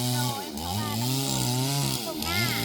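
A chainsaw cuts through a tree branch outdoors in hot sun, its engine whining steadily and close, with pitch rising and dipping as the blade bites into the wood, running continuously throughout.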